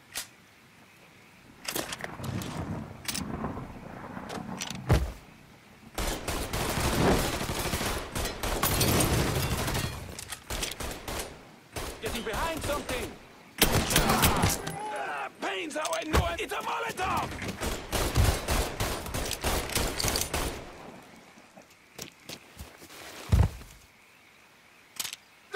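Gunfire crackles in a Mafia 3 video game, with clustered bursts and fusillades of shots coming in loud waves separated by brief quieter gaps.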